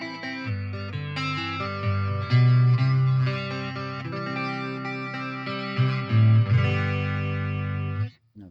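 A guitar runs through a chorus effect on a Fender Champion 40 combo amp, playing shimmering sustained chords and low notes with a warbling wash. It is steady and fairly full, with no talking, and ends on a final fade.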